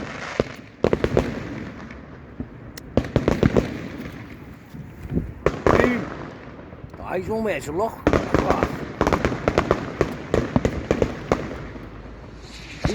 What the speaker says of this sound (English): He spent some dough on fireworks